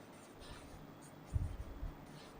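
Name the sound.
writing on a board while explaining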